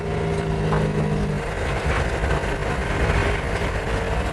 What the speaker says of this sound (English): It's a car that runs on compressed air.